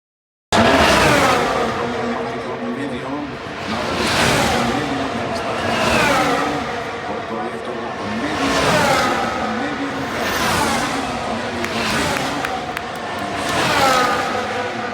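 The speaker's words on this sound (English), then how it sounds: "everybody continued standing up when the cars passed by" Formula 1 race cars at a live race sweep past one after another, each a loud rising-then-falling engine whine, about six passes in steady succession.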